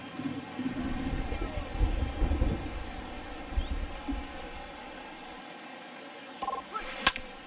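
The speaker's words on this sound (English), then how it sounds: "the rain starting to intensify here. It's coming down a little heavier now." Steady rain falls on a ballpark in the MLB The Show 20 baseball video game, a constant hiss with low rumbling swells early on and a few sharp crackles near the end.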